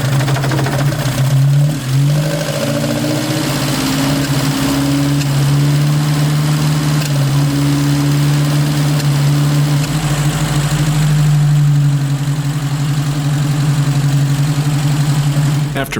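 An Opel Manta A engine fitted with twin Weber DCOE 40 carburetors catches early and settles into a steady, loud idle with a smooth, even hum that holds throughout.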